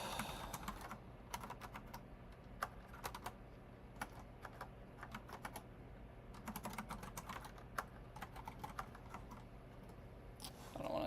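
Typing on a computer keyboard while coding, with bursts of quick key clicks separated by short pauses, close and moderately quiet against a low steady room hum.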